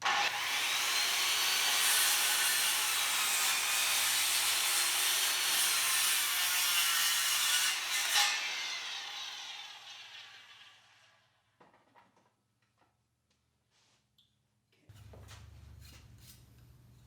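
A saw cuts wedges out of a 2x4 wood board, a loud steady rasping roar for about eight seconds that trails off, followed by a few faint clunks and a low hum near the end.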